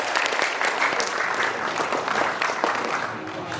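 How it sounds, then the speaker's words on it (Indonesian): An audience at a village head election event applauds four candidates, a dense, steady wash of clapping from a sizeable crowd that holds throughout, with faint voices mixed in. "Sekali lagi kita beri tepuk tangan kepada 4 calon kandidat kita yang mulia."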